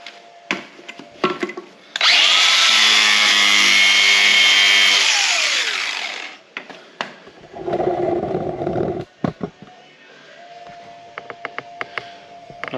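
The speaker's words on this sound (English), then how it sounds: "Just going to grind me off a nice spot here." An angle grinder grinds a spot on a broken ATV winch cable part: a loud, harsh whine lasting several seconds that winds down as it stops. Clanks and handling knocks of the parts come before and after.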